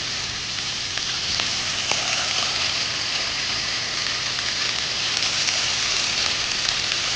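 Chicken pieces sautéing with ginger garlic paste in a hot pan, a steady dense sizzle and crackle running evenly throughout at close range with no voices.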